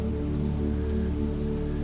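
Rain patters on a window in a dense, steady wash of close drops, unbroken throughout.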